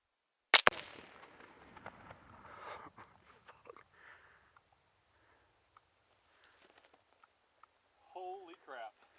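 A 2-pound container of Sure Shot Super Mag exploding target detonates in one sharp, very loud blast near the start, followed by a rumbling decay and scattered faint sounds afterward.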